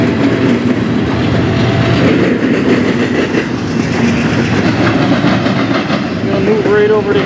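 Norfolk Southern 29C intermodal freight train led by locomotives 3636, 8183 and 4289 rolls past at Fostoria Iron Triangle, with loud steady rumble and clickety-clack of wagons close by and a brief wheel squeal near the end.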